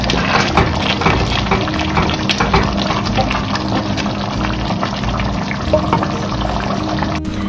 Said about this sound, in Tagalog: Nakumulo ng kumulo